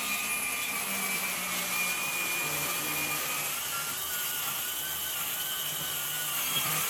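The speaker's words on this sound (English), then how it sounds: "Making the same cut in a 2-inch thick piece of cherry is asking a lot with this blade" A Rutlands cordless plunge saw with a 48-tooth blade cuts through 2-inch-thick cherry, a continuous high whine with a constant, fairly loud tone throughout, and no voices.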